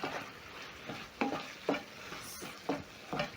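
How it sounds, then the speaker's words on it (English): Minced meat in a tomato stew being stirred, with the oil separating, giving several distinct scraping strokes over a soft sizzle, close and moderately loud with no talking. "I'm going to stir in my meat"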